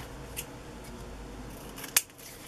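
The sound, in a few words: scissors cutting on glass mat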